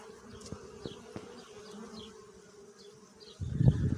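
Polesian honeybees buzzing steadily in an opened hive, a soft continuous drone with a few individual bees passing close, swelling louder near the end.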